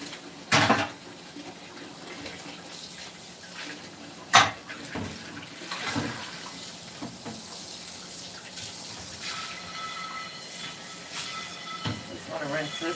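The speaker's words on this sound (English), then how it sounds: "Just want to rinse this out really good. Get all that tomato sauce out of there." Tap water runs steadily into a sink while tomato sauce is rinsed out of a pan, with a few louder splashes and clatters early on and faint talk at times.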